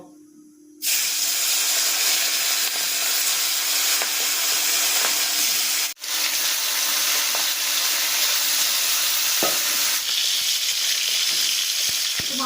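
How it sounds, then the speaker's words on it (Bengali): Topse fish drop into very hot oil, and a sudden loud, hissing sizzle breaks a short silence. The frying then carries on close and steady, with one brief dip midway. "তেলটা আমার খুব ভালো করে গরম হয়ে গেছে এবার আমি মাছগুলো এক এক করে ছেড়ে ভালো করে ভেজে নেবো"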